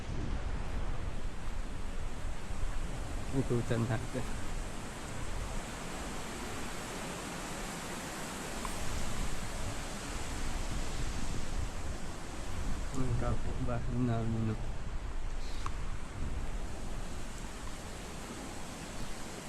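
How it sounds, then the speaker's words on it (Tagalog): Strong wind roars steadily as broadband noise at a night campsite in Bangkong Kahoy, gusting louder at moments, while a person speaks briefly underneath. "Ang lakas ng hangin."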